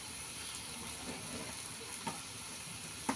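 Spice paste of ginger, chili, garlic and onion sizzling with chicken in a pan, a steady close hiss with a couple of sharp pops near the end.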